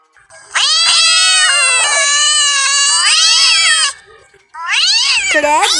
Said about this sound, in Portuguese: Que ronronados são esses?